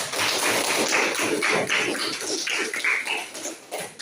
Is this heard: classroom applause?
yes